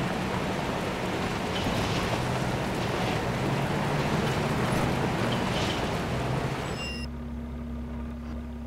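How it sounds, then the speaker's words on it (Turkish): Wind blows across a desert in the video game Far Cry 2, a loud, steady broadband rush with gusting swells, cutting off abruptly near the end to a low hum. "Bir rüzgar var."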